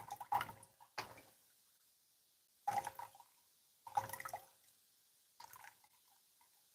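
Water drips and trickles out of a backpacking water filter in short, separate bursts with quiet gaps between them, close by and faint.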